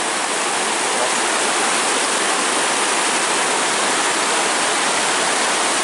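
High lake water pours over a spillway in a loud, continuous, close roar of rushing water with no pauses and no voices.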